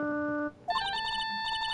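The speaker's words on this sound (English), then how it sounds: "All of a sudden, the phone began to ring." A cell phone ringtone from the Phoenix Wright: Justice For All game plays a bright, repeating electronic melody, switching after a brief pause into a busier, chiming phrase, heard alone and clearly.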